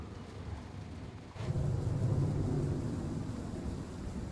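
Deep rumbling thunder rolls in after a short quiet stretch in a rainy train-station setting in Train Sim World 3, a low sustained boom over steady rain and wind ambience, with no voices.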